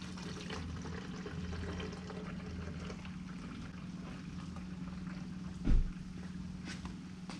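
Liquid lawn treatment pours into a sprayer tank, a continuous low trickling and gurgling with a steady hum beneath it and one brief louder splash near the end.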